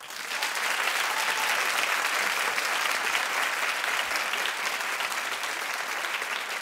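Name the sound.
studio audience clapping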